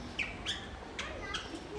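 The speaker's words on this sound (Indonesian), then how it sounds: "Ini dia jalak Bali." A Bali myna at a zoo gives a few short, sharp squawking calls, spaced unevenly across a couple of seconds and fairly faint.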